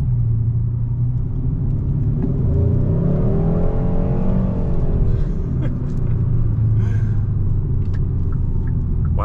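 A 2022 Hyundai Sonata N Line Night Edition pulls away from a stop hard enough to spin its front tires, its engine rumbling and rising in a steady, loud surge heard from inside the cabin with no talking.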